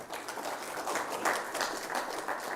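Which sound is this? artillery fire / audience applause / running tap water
audience applause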